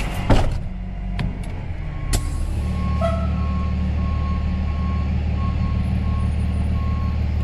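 A medium-duty tow truck backs up, its reversing alarm sounding a steady run of beeps over a low diesel rumble, after a few sharp knocks and clanks at the start.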